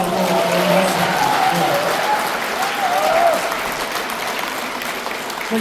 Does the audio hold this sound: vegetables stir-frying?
no